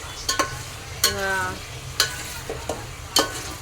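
Tomatoes and ten or twelve green chillies sauté in a pan. Several distinct spoon scrapes and clacks ring out at spaced intervals over a low, steady sizzle.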